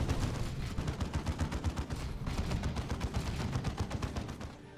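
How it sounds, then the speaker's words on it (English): Sustained machine gun fire in the real-time strategy game Dawn of War 2, a loud, rapid, rhythmic chatter of shots that runs unbroken, with heavy bursts layered underneath. "machine gun spam in Dawn of War 2 appears to be not effective"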